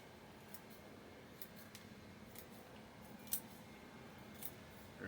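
Scissors trimming back long growth on a young Juniper procumbens nana bonsai, giving soft, scattered snips spaced irregularly, faint and close over a quiet background hiss.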